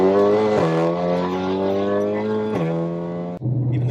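Tuned stage 3 VW Golf R DSG with a loud, steady droning exhaust, a couple of sharp pops and blips breaking the note, then a drop in revs near the end, close and without talk.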